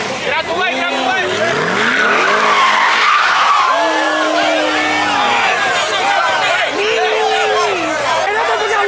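Tires squeal and skid in long rising and falling screeches as a car spins at a street car takeover. Engine roar runs through it, with crowd chatter and shouting voices all around.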